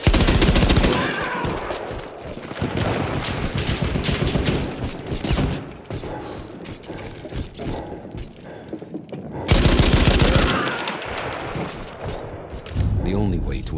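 Loud, sustained machine gun fire in the World War I shooter Battlefield 1: dense rapid bursts that break off and start again, with a voice talking over parts of the shooting.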